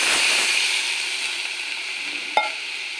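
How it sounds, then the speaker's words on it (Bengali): Spice paste frying for a Bengali fish curry with a splash of water in the pan, giving a steady broadband sizzle and hiss throughout, with a brief sharp clink near the end. "মশলাটা কষানো হয়ে গেছে, এটা সামান্য একটু জল দিয়ে দেবো"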